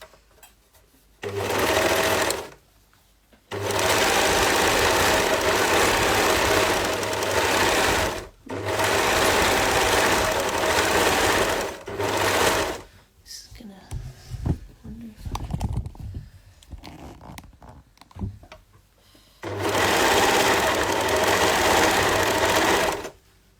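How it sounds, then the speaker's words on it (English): A sewing machine stitches a leggings seam from top to bottom in several long bursts of fast, even whirring, broken by short pauses, with a voice talking quietly in the gaps. "we do the same to the other side, but we sew from the top all the way to the bottom"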